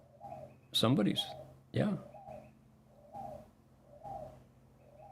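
Wild pigeon cooing in soft, low repeated phrases at moderate distance, several coos spaced through the stretch, with someone talking over the first part.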